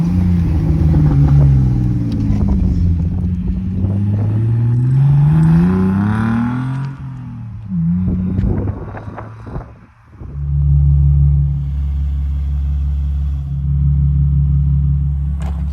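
BMW E46 engine idling and revving after a repair, a steady close low rumble with rising and falling rev sweeps, a brief dip, then a settled loud idle.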